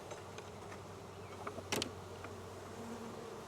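Honey bees in a hive give a faint, continuous hum, and brief buzzes pass close to the microphone.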